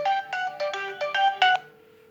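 An SK We VoIP phone rings for an incoming call, a bright electronic melody of seven short tonal bursts in quick succession, loud and close, with a brief sustained tone fading out at the end.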